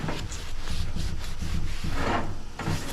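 Rough scrubbing against the grimy bottom of an old Ash Flash lantern, steady close rasping strokes that run continuously with brief pauses and no talk.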